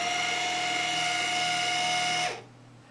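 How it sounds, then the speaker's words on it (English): A PA-16 mini linear actuator's 12-volt electric motor retracts with a steady, close, high-pitched whine for a couple of seconds, then cuts off abruptly, leaving only quiet room noise. "To retract the actuator,"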